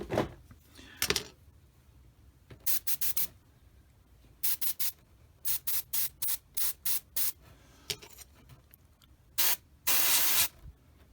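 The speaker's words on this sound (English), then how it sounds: "So you can really control the amount of paint that you're getting out of here. But see, it sprays really good." Paasche H single-action airbrush spraying paint in a series of short broadband hissing bursts, some brief and some held longer, each starting and stopping abruptly with quiet gaps between them.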